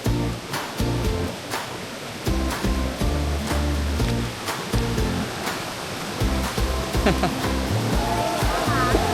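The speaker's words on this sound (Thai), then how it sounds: "น้ำตกก็จะเล็ก ๆ ครับอยู่ตรงนี้ สมอลดัอมาก ตกเบาๆ" A small, gently falling waterfall on a forest trail at Suan Phueng, Thailand, gives a steady close rush of water throughout, with faint voices and brief tones mixed in.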